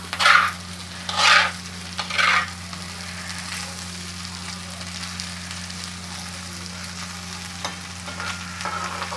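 Potatoes fry and are stirred on an iron griddle for a fasting-day recipe, three short scraping stirs near the start over a steady low sizzle and hum, with no talk.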